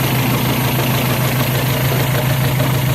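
A Toyota 4K engine idles roughly with a misfire from a faulty spark plug, running as a loud, steady, close-up drone with an uneven low pulsing throughout.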